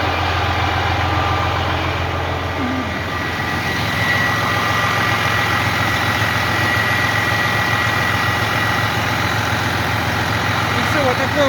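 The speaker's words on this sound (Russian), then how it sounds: "вот такая сборка мотора, вот так он работает" A rebuilt car engine idles steadily with a deep, continuous rumble and faint mechanical clatter, running on without a break from start to finish.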